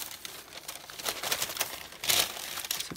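Parchment paper crinkles and rustles as bread dough is dropped onto it, a close, crisp scratchy texture with a louder burst of crackling near the end.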